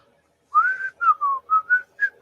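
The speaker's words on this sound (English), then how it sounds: "want me to whistle and entertain y'all?" A person whistles a short, clear melody of about six distinct notes, close and alone against near silence.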